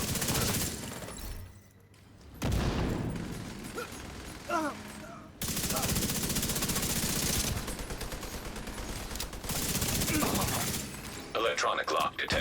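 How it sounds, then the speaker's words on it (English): Sustained video-game gunfire: long, loud bursts of automatic shots separated by short pauses, with mechanical clanks and a glassy shatter mixed in, and a voice speaking briefly between volleys. "Oh, firing!"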